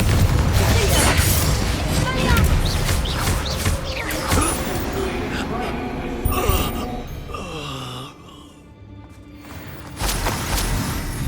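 Confringo fire-spell blasts in Hogwarts Legacy, in the Slytherin Scriptorium: loud booming bursts and crashes over a dense, rumbling battle din, with groaning, moaning cries and a quieter lull near the end.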